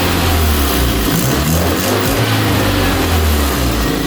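A Toyota Celica engine idling close by, a loud, steady low rumble that holds for a few seconds with slight wavering.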